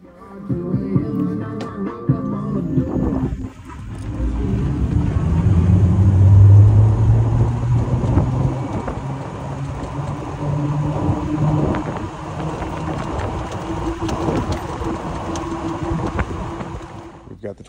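A 2024 Vibe EV4 electric four-passenger golf cart with 14-inch wheels and 23-inch off-road tires driving, giving a steady low rumble and road noise from inside the cart throughout, with some low hum and no clear motor whine.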